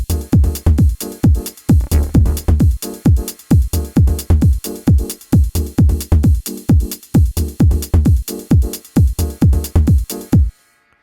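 A basic drum pattern programmed on Maschine, layered with a chord treated with FM and reverb, repeats steadily with loud punchy low hits in an even rhythm, alone and close, ending abruptly near the end.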